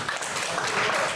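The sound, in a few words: audience applause after a lecture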